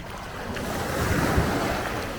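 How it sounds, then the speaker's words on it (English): High ocean waves at Chaweng Beach on Koh Samui, a loud, continuous surf wash with heavy wind rumble across the microphone, swelling slightly midway. "It's the waves are getting quite high now."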